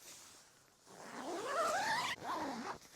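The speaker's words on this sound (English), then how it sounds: "It also has the zipper down at the bottom that opens the door" A tent door zipper on a budget OneTigris Tegimen hot tent is pulled open in one long, rising, close-up zip lasting about a second and a half, with a short second zip after a brief pause.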